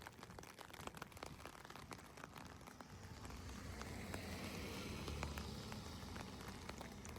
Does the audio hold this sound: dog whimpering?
no